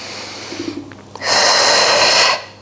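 During a morning strength workout session, a loud, close breath is drawn and held for about a second, preceded by quieter rustling and a faint voice.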